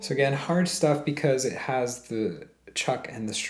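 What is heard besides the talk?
No everyday noise stands out behind the speech.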